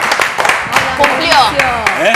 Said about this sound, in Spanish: un aplauso para Mauricio